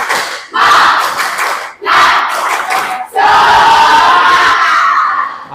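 A group doing a spirit clap-and-cheer chant in a classroom training session: loud, close crowd voices shouting in three rhythmic bursts, the last one long and sustained, with clapping mixed in.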